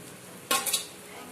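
Egg fry mixture with garam masala stirred in a pan, a short scrape-and-clatter of a spoon against metal in two quick bursts, close and fairly soft against a quiet background.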